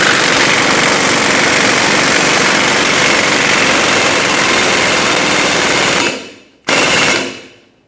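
An air-powered press drives a new ball joint into the front suspension of a 2000-2005 Ford Excursion, a loud continuous rapid hammering rattle for about six seconds, briefly cutting out, then one short final burst.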